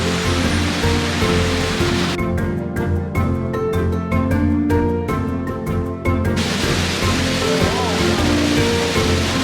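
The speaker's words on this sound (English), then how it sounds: "I am happily going to be riding this log flume, which hopefully means no line" The Chiapas log flume water ride at Phantasialand, with loud continuous rushing and splashing water that roars throughout, its texture shifting briefly partway through.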